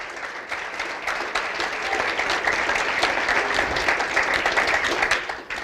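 Sustained applause from a graduation ceremony audience, dense steady clapping filling the room from start to finish, loud and continuous with occasional sharper individual claps.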